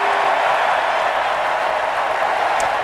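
A large political convention crowd applauds and cheers after Tim Kaine accepts the vice presidential nomination, a dense, loud, continuous wash of clapping.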